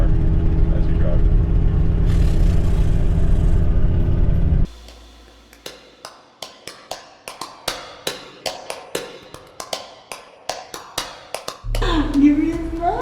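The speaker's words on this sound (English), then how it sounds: "Does anyone else hear our exhaust manifold? It's so freaking loud." A Ford Excursion drives with a loud leaking exhaust manifold: a steady engine drone is followed by a rapid series of sharp, close ticking pops that fire in an uneven rhythm before the rumble returns.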